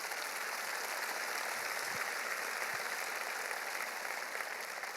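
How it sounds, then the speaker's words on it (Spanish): A church congregation applauds during a Spanish-language sermon, a dense, steady wash of clapping that holds evenly for about five seconds with no voices over it. "Denle un aplauso al Señor"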